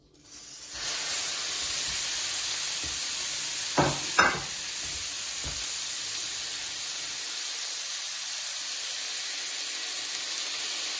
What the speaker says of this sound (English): here I have some oil that was heating in the pan. So now we're gonna transfer the mince